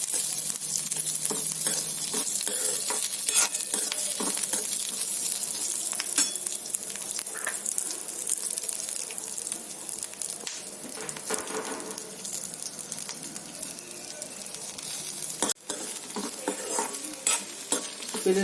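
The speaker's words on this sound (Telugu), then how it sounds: "వెల్లుల్లిపాయలు గోల్డెన్ బ్రౌన్ వచ్చాయి" Garlic cloves frying in oil for a garlic chilli powder recipe, stirred throughout, giving a dense, steady sizzle with frequent scraping and tapping of the spoon against the pan.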